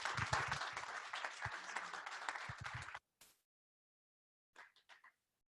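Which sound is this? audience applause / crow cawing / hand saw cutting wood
audience applause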